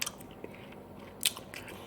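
Homemade Korean meat patties (donggeurangttaeng), fried with vegetables, are bitten and chewed close up, with a few faint crisp crunches in a quiet room.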